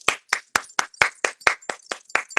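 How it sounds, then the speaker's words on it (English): Single person clapping hands close by, about eleven sharp, evenly spaced claps in a steady rhythm, loud and alone with no other sound. "clap it up for me"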